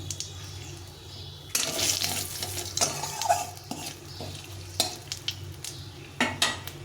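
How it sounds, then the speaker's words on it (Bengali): Cumin, a bay leaf and a dried red chilli frying in hot oil over a very low flame, a soft sizzle with stirring scrapes and clinks that come in bursts, close by and with no talking. "আর কিছুটা জিরে আর একটা তেজপাতা একটু ভেজে নেব।"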